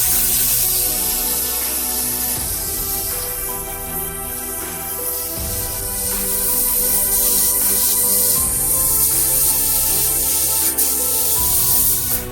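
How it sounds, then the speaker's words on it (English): Spray gun hiss applies red-pigmented resin coating to repaired parts of a Kawasaki ZX-14R motorcycle, a continuous close spray with slight pulses, heard over steady background music. "I mixed a small amount of bright red pigment into the resin coating and sprayed it onto the repaired areas"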